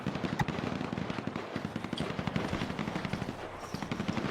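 Continuous rattling automatic fire in a Z30 versus TVA turf-fight video game, shots crackling in quick uneven bursts from several directions, loud and close throughout with no voices.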